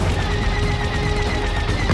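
Explosion in the LEGO Star Wars video game, a dense continuous crackling barrage of blasts and booms filling the whole stretch at steady loudness.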